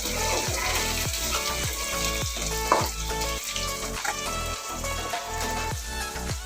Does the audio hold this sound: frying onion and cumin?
yes